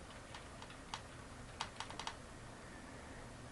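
Username and password typed on a computer keyboard: a quiet, irregular burst of close key clicks, a few isolated taps and then a quick cluster, over a steady background hiss with no talking.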